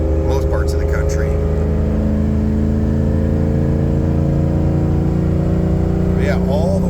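A Ford EFI 460 V8 revving hard toward its rev limiter, a loud, steady, high engine drone held close up for several seconds and fading a little near the end.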